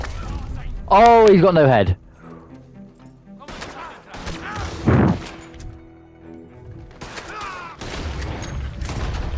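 Gunfire bursts in the Red Dead Redemption 2 video game, a loud crack near the start followed by scattered thuds and impacts, with excited voices talking over much of it.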